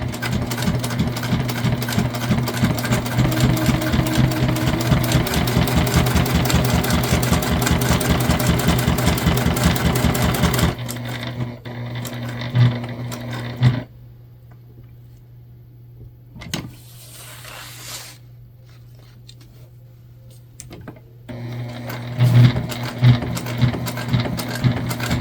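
A sewing machine stitching a bucket bag, running in a fast steady whirring rattle for about ten seconds, then stopping, with quiet handling noises, before short bursts of stitching start again near the end.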